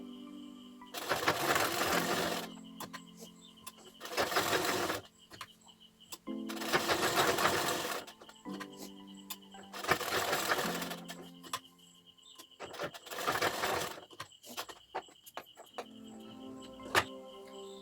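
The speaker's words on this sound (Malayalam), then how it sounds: "അപ്പോൾ നമുക്കിനി കഴുത്ത് കട്ട് ചെയ്ത് സ്റ്റിച്ച് ചെയ്യാം" A sewing machine stitches the neck of a small top in several bursts of rapid, even whirring, each lasting one to three seconds, with short pauses and fabric handling between runs.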